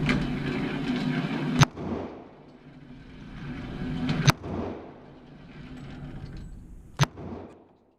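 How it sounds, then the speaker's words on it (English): A CZ P-10C pistol fires three loud, sharp shots spaced a few seconds apart, each cracking over a low background rumble with no talking. "what you're going to see me here doing is shooting the first 10 rounds with the gun"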